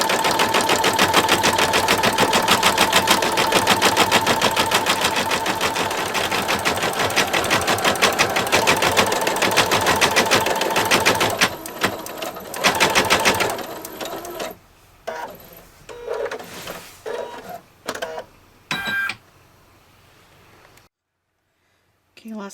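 An embroidery machine stitches a design onto toilet paper with a loud, close, rapid mechanical chatter that runs steadily before breaking into short stop-start bursts and falling silent, with a voice talking over it.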